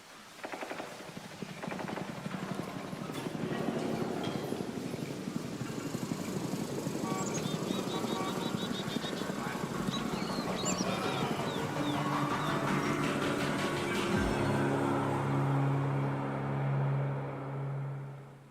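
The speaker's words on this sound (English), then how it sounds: "this is what the distant ambient helicopter sounds like in Warframe 1999" A distant ambient helicopter in the video game Warframe 1999 makes a steady, muffled rotor chop that sits as a continuous low wash of thrumming beats, fairly even in level, before fading out at the end.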